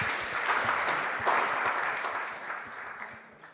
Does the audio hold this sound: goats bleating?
no